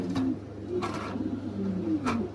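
Yellow Lahori pigeons coo in soft, low repeated calls close by, with a few brief rustles or wing flutters between the coos.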